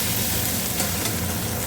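Ground spices and Kashmiri chilli powder sautéing in oil in a pan while duck meat is being cooked, giving a steady, close, broadband sizzle that holds evenly with no talk over it.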